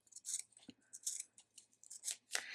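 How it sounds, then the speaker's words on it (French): Scissors snip along a drawn outline while cutting out slipper sole pieces, a series of close, crisp cuts in quick irregular bursts with no talking. "je vais maintenant suivre le dessin et couper ce qui dépasse."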